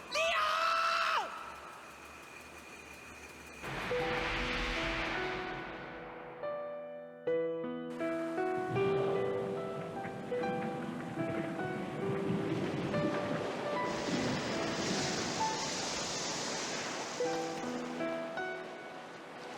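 Rushing floodwater pours into a room in the video game Tales of Destiny, a loud broadband surge with game music rising and falling over it.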